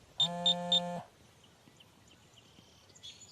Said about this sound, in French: J'avais oublié, j'avais mis l'alarme en plus